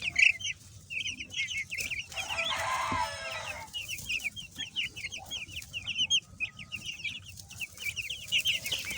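Chickens cluck close by outdoors in the sun, with repeated short calls throughout and a brief rooster crow near the start.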